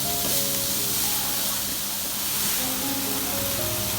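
Aloo chicken rolls frying in hot oil, a close steady sizzle and hiss with soft bubbling crackles, even throughout with no talking.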